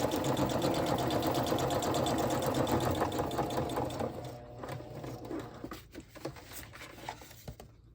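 Sewing machine stitching the base and envelope panels of a scrappy flip-flop fabric journal, a fast rhythmic mechanical whir that runs steadily and loudly, then slows into short bursts and stops near the end.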